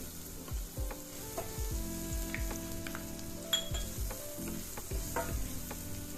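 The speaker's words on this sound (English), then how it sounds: "I'm just going to saute until the onion is translucent." Onion and garlic sauté in a pan over lowered heat for Jamaican-style pumpkin rice. A steady close sizzle runs under repeated clinks and scrapes of a spoon stirring against the pan.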